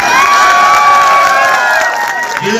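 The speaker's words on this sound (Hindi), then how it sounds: "इनका जोरदार तालियों से स्वागत" A crowd cheers and shouts in welcome at a political gathering as a defecting local leader joins the party, a loud, continuous wash of voices with sustained yells and faint clapping.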